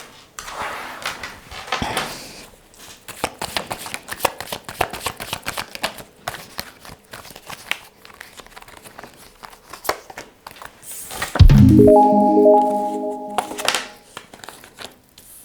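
Tarot cards shuffled and handled, with repeated papery riffles, slides and light taps close up, and a louder rustling burst near the end.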